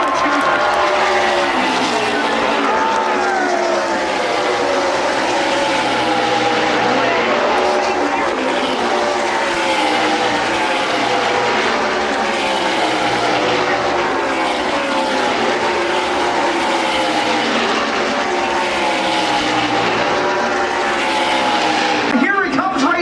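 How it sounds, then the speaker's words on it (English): A NASCAR Xfinity race car roars down the front straightaway at Watkins Glen International, its engine drone sustained and loud across the whole stretch, with crowd and track noise mixed in and no clear speech. "Here he comes, race fans. Back onto the front straightaway."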